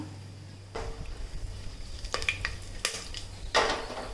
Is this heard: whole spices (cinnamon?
yes